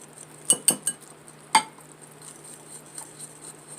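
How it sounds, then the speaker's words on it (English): A whisk clinks against a bowl while mixing lemon juice into powdered sugar for a lemon glaze, giving a few close metallic taps in a quick cluster, then one more, with fainter scraping afterward. "Whisk this all together."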